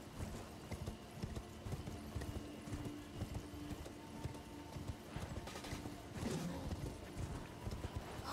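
Horse hooves clip-clop in the video game Elden Ring, a quick, steady rhythmic trotting that runs the whole time, fairly faint and close, with game noises mixed in.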